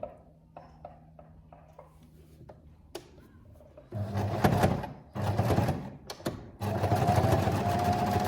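Sewing machine stitching slowly through several thick layers of fabric for a bag, quiet clicks first, then loud close bursts of motor whir, pausing briefly between runs.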